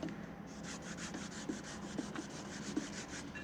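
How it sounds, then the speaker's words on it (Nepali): Lemon pickle ingredients are rubbed back and forth on a silauto, a flat grinding stone, with water added; quiet, rhythmic scraping strokes with small gritty clicks, close by and without talk. "अब यहाँ सिलौटोमा यसरी घोट्ने"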